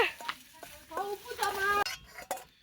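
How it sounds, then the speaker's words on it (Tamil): A utensil stirs and scrapes in a pan during home cooking, with clinks and light sizzling, while voices chatter nearby. "காய்ஸ் பார்த்தீங்கன்னா சமையல் செஞ்சுட்டு இருக்கோம்"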